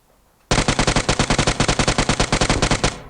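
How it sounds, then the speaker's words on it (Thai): Rapid gunfire in the video game PUBG Mobile: a loud, sustained automatic burst of about twenty evenly spaced shots after a brief quiet moment, with no voices. "โหยิงกันใหญ่เลยข้างข้างหน้าเรา"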